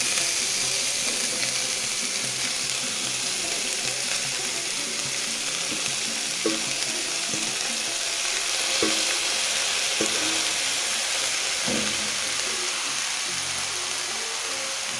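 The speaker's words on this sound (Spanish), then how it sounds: "Una vez dorado nuestro pollo, agregamos nuestras verduras." Chicken already browned in a pan sizzles loudly and steadily as vegetables go in for a Chifa-style tallarín saltado, with occasional stirring clatter and small pops over the constant frying hiss.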